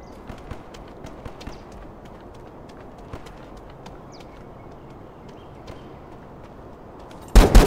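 Footsteps in The Day Before game: faint, scattered tapping steps heard from a distance over a low ambient hiss, with a sharper burst of noise at the very end.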